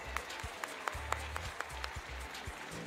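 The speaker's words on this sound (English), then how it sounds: "A big round of applause for him." Faint applause patters steadily from a distant crowd at a sports awards ceremony in Muscat, Oman, soft scattered claps under a low hum.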